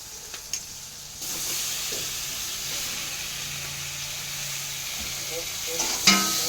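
Tomato sizzles as it fries in a pan with onion, garlic, slit green chilli and capsicum. A steady hiss holds after a soft start, with light scraping from stirring and a brief clatter near the end.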